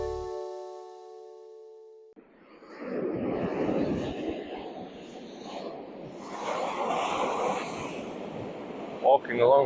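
Surf washes onto Vero Beach on Florida's Atlantic coast, a broad steady rush of waves mixed with gusty wind noise, with a short voice near the end.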